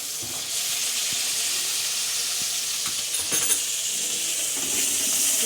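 Onion paste frying in a pan with onion, garlic and green chilli: a steady broad sizzle and hiss, with a few small clinks and a faint voice underneath.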